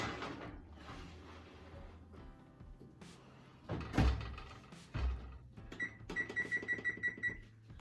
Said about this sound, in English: the 7-minute timer just went off